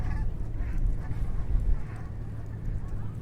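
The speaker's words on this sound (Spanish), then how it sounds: "no sé si se ha podido escuchar el sonido de una bandada de gansos de Canadá Geese" A flock of Canada geese honks over meadows near lower Manhattan, a few scattered honks rising from a low, steady background rumble, moderately distant with no talking.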